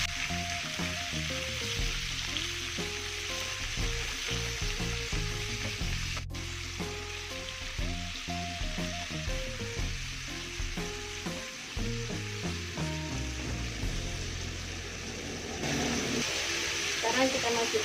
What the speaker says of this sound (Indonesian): Kemudian kita masukkan cumi-cuminya. Kita aduk hingga merata.